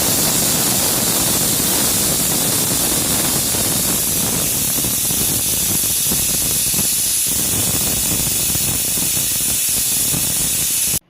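A pressure cooker of goat meat vents steam through its whistle as a loud, continuous hiss that holds steady for about eleven seconds, then cuts off abruptly.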